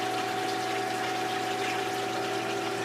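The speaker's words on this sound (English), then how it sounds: "As you can see, the water's trickling through the filter." Water trickles steadily through the filter of a 100-gallon cylinder aquarium during a water change, a continuous wash over a low pump hum that holds at an even level throughout, with no voices.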